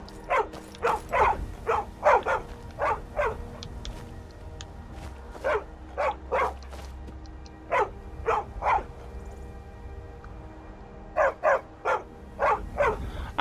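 A dog in Skyrim barks repeatedly in short, rhythmic bursts of two to five, fairly loud and close, with pauses between the volleys and no talk over them.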